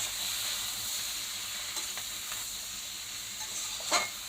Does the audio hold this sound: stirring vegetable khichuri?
yes